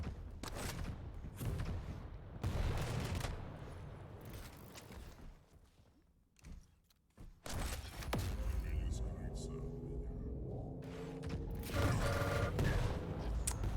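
Quake duel gunfire with bursts of rail, rocket and lightning-gun shots, explosive blasts and rumbling impacts under continuous fast commentary, dipping briefly to quieter fire before the shooting resumes.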